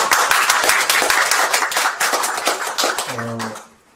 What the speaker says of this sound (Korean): 중간에 박수 한번 주시죠